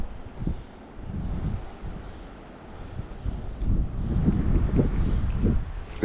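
Wind buffeting a microphone outdoors while ultralight fishing for bluegill, rising and falling in low rumbling gusts that grow stronger toward the end.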